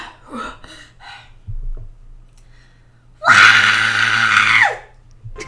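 A person imitates the red larva's scream from the Larva cartoon, a loud, shrill sustained shriek lasting over a second after some breathy sounds and quiet pauses.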